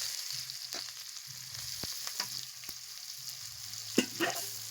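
Garam masala and chopped onion fry in a kadai with a continuous low sizzle. Occasional sharp clicks and scrapes of a stirring utensil rise above it, the loudest near the end, close by and with no voices.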